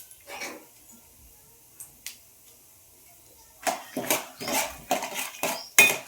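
A big spoon works through food in a cooking pan while making puliyogare, sounding as a few scattered metallic scrapes early on, then a busier, louder run of close clinks and scrapes toward the end, with no talk.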